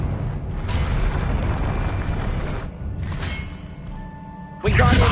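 A Confringo blasting spell explodes in the Hogwarts Legacy video game: a loud, sustained rumbling roar with shifting texture ends in a sudden, sharp burst close up.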